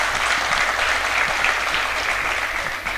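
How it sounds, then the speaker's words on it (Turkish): A gathering of Yörük Türkmen association presidents at a culture workshop in Antalya breaks into loud, sustained applause, a thick continuous roar of clapping throughout. "siz kendinizi şöyle gönlünüzden kocaman alkışlayın"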